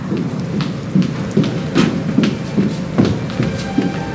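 A thunderstorm with steady heavy rain and repeated rolling thunder, the rain hissing continuously while low booms and cracks recur every half second or so, close and full.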